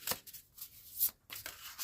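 Oracle cards are shuffled and drawn by hand, giving several quick papery riffles and slaps in an uneven rhythm, close and fairly soft, with no talk.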